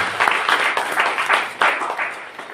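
An audience at a temple gathering bursts into loud, sustained applause, a dense wash of many hands clapping close by that swells and dips in waves, with no voices over it.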